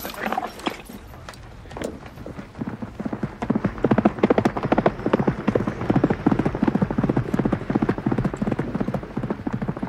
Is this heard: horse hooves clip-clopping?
yes